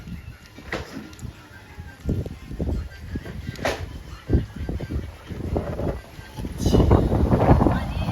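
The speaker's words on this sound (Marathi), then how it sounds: "खूपच वारा सुटलाय" Strong gusts of wind buffet the microphone in loud, uneven rumbling bursts, swelling toward the end, with faint background voices.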